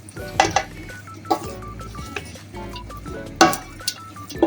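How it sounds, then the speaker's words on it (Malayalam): A spoon clanks and scrapes against a metal pot as coriander leaves are stirred into chicken biryani, with uneven bursts of metallic clinks and ringing knocks close by, and no talk. "പിന്നെ മല്ലിയില ഇട്ട് നമ്മൾ ഇളക്കി യോജിപ്പിച്ച് വയ്ക്കാം"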